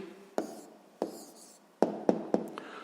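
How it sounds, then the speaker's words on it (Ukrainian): A pen writes an answer in a school notebook, producing a few distinct taps and short scratchy strokes at irregular intervals, close and quiet with no talking. "записуємо тоді відповідь"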